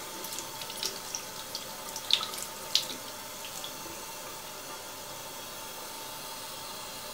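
Tap water runs softly and continuously while makeup brushes are rinsed under the stream, a faint steady wash with a couple of small splashes near the start.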